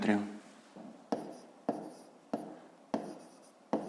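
Repeated pen strokes writing on paper while solving a fifth-grade math exercise, close and clear, in about five short bursts with brief pauses between them and no talk.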